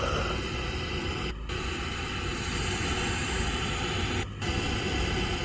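A steady broadband pink noise test signal hisses through a car audio system, loud and constant, broken by two brief dropouts, with no voices.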